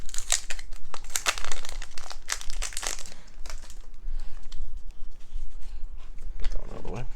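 The plastic seal on a pack of Dune Imperium Intrigue cards is torn open by hand, giving close, loud bursts of crinkling and crackling wrap that slow into quieter rustles, with a brief handling thump near the end.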